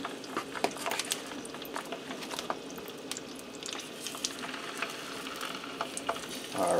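Sausage links fry in vegetable oil in an electric skillet with a constant bubbling sizzle, broken by frequent sharp pops and spatters.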